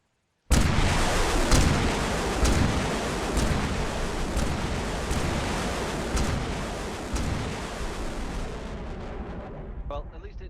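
Napalm rockets fired in rapid succession from a heavy flamethrower vehicle in the video game Arma 3, a loud roaring barrage of booming launches that begins abruptly and rolls on for about ten seconds before cutting off.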